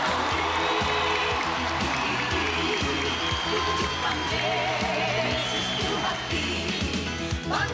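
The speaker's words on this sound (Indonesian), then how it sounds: "Bagaimana kalau kita berikan tepuk tangan yang paling meriah untuk mereka?" A large crowd applauds at the HKBP 150th jubilee celebration in Gelora Bung Karno stadium, a broad, continuous wash of clapping with faint cheers, loud and steady for several seconds under a droning musical background.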